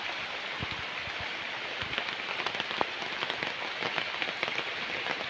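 Steady heavy rain patters on hard surfaces beside a fish pond, a constant hiss with scattered, louder individual drops.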